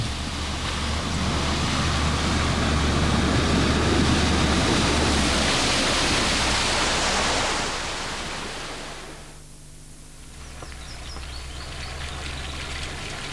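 A 4x4 off-road vehicle ploughs fast through water, throwing up a loud, sustained surging splash that swells for several seconds, then drops away before a lower engine rumble and lighter water noise return.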